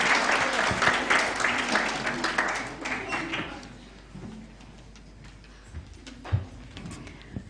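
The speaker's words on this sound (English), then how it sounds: "Let's give her a round of applause." An audience at a Kenyan moot court competition applauds warmly, the clapping loud at first and then tapering off into a few scattered claps and faint room noise.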